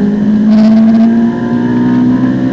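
A Ferrari 458 Italia accelerating at full throttle on the Monza circuit, its engine a loud, steady, close-up roar that climbs slightly in pitch through the whole stretch.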